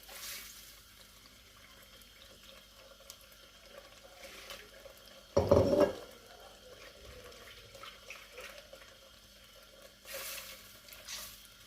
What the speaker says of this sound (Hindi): थोड़ा सा पानी इसमें मसाले में डाल के इसको फिर मैं ऐसे डाल देती हूँ